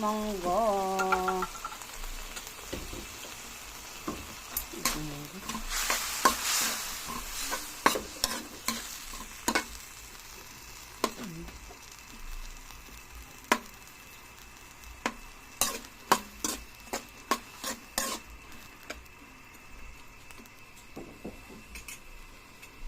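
Mung beans go into a pan with sautéed aromatics and are stirred while they sizzle, with a steady, fairly quiet crackle broken by many sharp clicks and scrapes from the utensil. A short tonal squeal sounds near the start.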